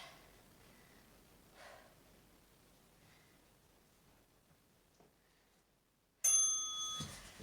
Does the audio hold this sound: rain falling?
no